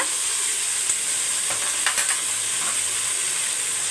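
Tomatoes, ginger and garlic sauté in hot oil for prawn biryani, giving a steady close sizzle and hiss with a few soft stirring scrapes, heard on its own.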